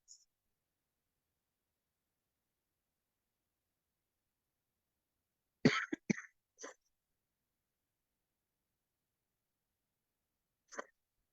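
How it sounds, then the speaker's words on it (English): A quick burst of several close coughs breaks the silence, then a long pause, then one more short cough. "Sorry, keep coughing."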